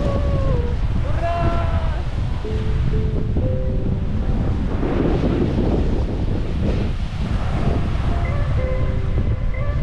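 Sea waves wash onto Calis Beach in Fethiye, Turkey, in a continuous loud surf roar with wind buffeting the microphone, while voices are faintly audible in the background.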